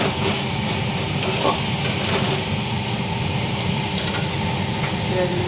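Tomato paste sizzles and fries in a pan for chicken kasha, with a steady loud hiss and occasional scraping stir strokes throughout.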